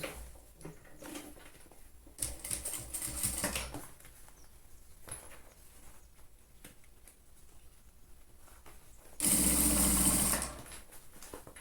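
Sewing machine stitching a seam to close the bottom of a fabric trapezoid pouch, running in short bursts with quiet pauses between them, the final burst longest and loudest, close up with no talking.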